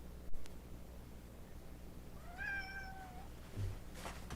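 A cat meows once in a quiet room, a single clear rising-then-falling call of moderate loudness, preceded by a small tap and followed by faint background noise.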